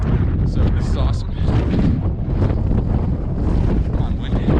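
Strong gusting wind buffets the microphone on a granite mountain summit near Prescott, Arizona, a loud, continuous roar with surging blasts, and a voice faintly mixed in.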